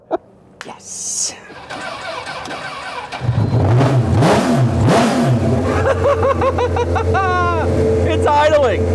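A motorcycle engine in a LeMons racecar cranks and then catches, climbing from a few uneven firings into a loud, steady idle with small blips of revs while voices talk over it close by.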